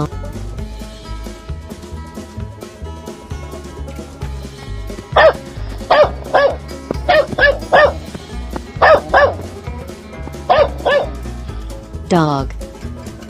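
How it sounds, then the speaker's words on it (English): A dog barks in short, sharp pairs several times over background music in an animated escape-room guessing game, ending with a higher, drawn-out yelp. "Dog."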